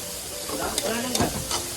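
Sotanghon noodles fry and get stirred in a pan, a soft steady sizzle with scraping stir strokes and small clatters, fairly quiet and close, with no speech.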